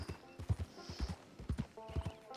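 Horse hooves clip-clop in the video game Red Dead Online, a quiet, uneven run of repeated hoof strikes, some doubled, with a soft whinny-like tone partway through and no talking.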